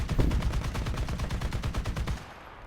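Rapid bursts of tank gunfire in the War Thunder Mobile video game, a dense run of close, loud shots in quick rhythm for about two seconds before cutting off to quiet.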